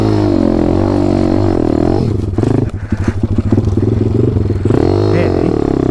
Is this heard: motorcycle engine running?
yes